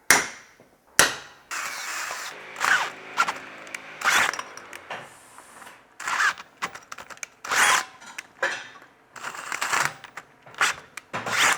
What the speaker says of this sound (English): I can now drill out the holes in the plate